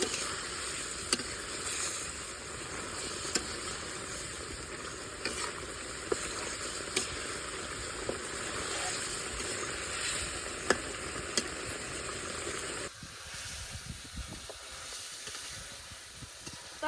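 Curry sautéing in a pan for a village-style snakehead fish curry: continuous close sizzling with regular utensil stirring clicks every second or so, then the frying hiss drops away near the end.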